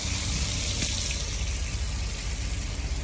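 Heavy water pouring and splashing while firefighters put out a dumpster fire, a steady, loud, continuous wash of spray with no break and no voices.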